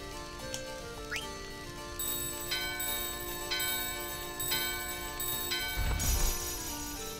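Bell chimes from the video game Final Fantasy IX sound in a steady tonal pattern, with a fresh struck note about every second over a constant game ambience and a louder swell near the end.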